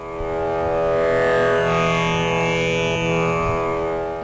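A fretless drone instrument tuned to sa and pa rings out in a loud, sustained, buzzing tone rich in overtones, steady and alone.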